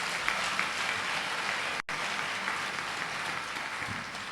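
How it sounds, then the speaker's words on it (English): Audience applause at a university graduation congregation: dense, steady clapping that fills the hall throughout, with a brief dropout near the middle before the clapping resumes at the same level. "Let's give him a round of applause"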